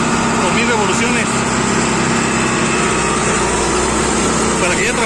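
Tractor engine running steadily at about 2000 rpm while sowing, a loud, constant close drone with a low rumble and a higher mechanical whine throughout, without pause.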